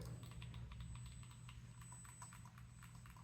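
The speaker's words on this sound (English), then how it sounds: "You hear that mechanical click." Mechanical button clicks on a game controller, a quick run of sharp, light taps repeating at close range over a steady low electrical hum, with no talking.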